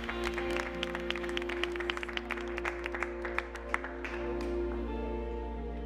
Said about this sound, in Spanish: En el aplauso.